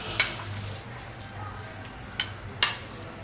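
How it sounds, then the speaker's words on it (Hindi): Ginger garlic paste is stirred into a raw keema mixture in a metal vessel, with a few sharp clinks of a spoon against the pot amid soft scraping, close and sparse. "अब अच्छे से हम इसको मिक्स कर लेंगे"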